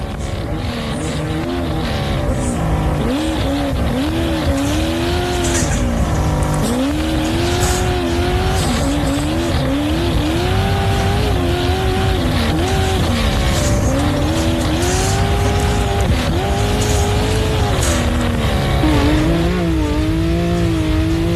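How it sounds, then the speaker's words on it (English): A turbocharged race car engine at a dirt-track event, heard through a window: loud, sustained engine note with repeated revving rises and falls and tire squeal, a steady roar throughout. "Sounds like a turbo car through the window."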